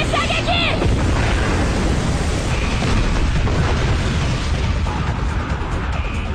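An anime volley of weapon fire explodes in a dense, sustained roar of blasts and crackling bursts, loud and close throughout, with no pause in the barrage.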